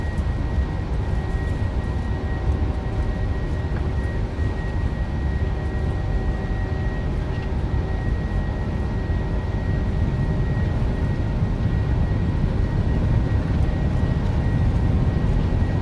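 A Boeing 737-800 in the PMDG flight simulator rolls down the runway for takeoff, a steady, loud engine roar with a constant tonal whine and broadband rumble, unbroken and without speech.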